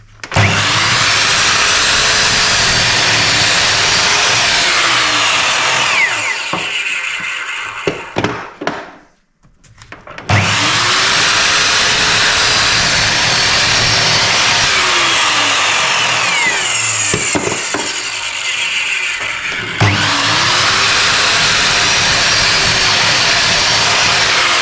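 A JCB 254mm sliding mitre saw roars loudly as it cuts wood, with three long sustained whining runs separated by brief spin-downs and a near-silent gap, close and harsh throughout.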